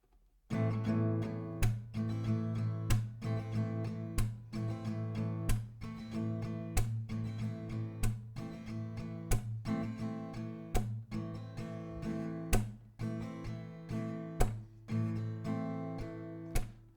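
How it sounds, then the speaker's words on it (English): Steady acoustic guitar strumming in a down, up, down, down pattern for a song, punctuated by sharp percussive claps at regular intervals, played alone throughout. "The strumming pattern will be down, up, down, down, and clap."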